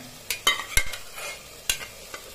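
Mutton for a biryani drops into a hot pan and fries, with a few sharp clattering knocks of a stirring spoon over a soft, steady sizzle.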